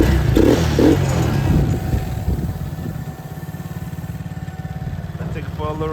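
A dirt bike engine idles and revs before a test ride, with a louder clattering rev at the start settling into a steady low idle, close by.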